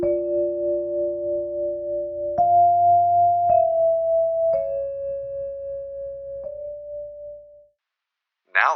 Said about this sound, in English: Here's the basic sound of the vibraphone.